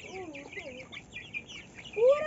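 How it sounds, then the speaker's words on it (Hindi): A rooster clucks and calls several times in short bursts, close by, over a quiet outdoor background. "तो सबसे पहले हम अपने मुर्गे को बाहर निकालते हैं।"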